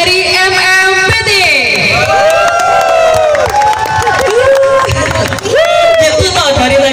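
A crowd cheers and claps at a casting fishing competition by the Tenggaro river in Keluang, South Sumatra, with loud, sustained cheering over a background of voices.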